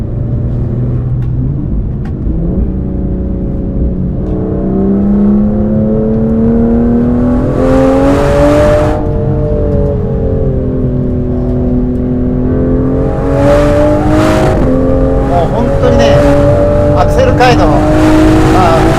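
A 2025 Aston Martin Vanquish pulls hard on a winding road in manual gear mode, its engine note rising steadily and loud through the gears with brief shift dips, while someone talks over it from inside the cabin.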